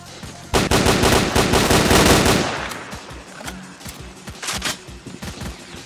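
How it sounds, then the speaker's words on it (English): Automatic gunfire from S.T.A.L.K.E.R.: Clear Sky, a loud dense burst of rapid shots for about two seconds, followed by scattered, more distant shots and sporadic firing through the rest. "Sounds like the loners are still shooting at something."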